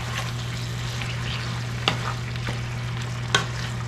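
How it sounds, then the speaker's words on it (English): Spicy snow peas stirred in a hot pan, a steady close sizzle with a constant hum beneath and two sharp scrapes of the utensil against the pan. "And just stir them up."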